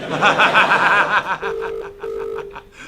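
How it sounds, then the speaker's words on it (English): A telephone call to a free phone number, with dialing and ringing tones sounding over a light snicker and chuckle, followed by a steady tone broken into short beeps. "Just call any free phone number."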